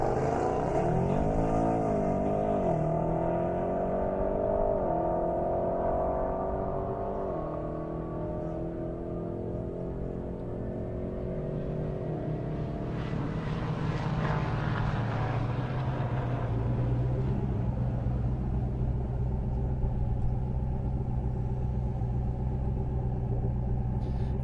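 Audi RS3 and Audi RS6 drag racing side by side on an airport strip, engines roaring loudly and rising in pitch through repeated gear shifts, then a surge of wind-blown rumble as the cars pass and settle into a steady drone.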